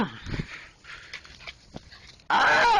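Young puppies yelp and bark in a few short bursts at close range, ending in a loud sustained squeal or whine, with rustling in between.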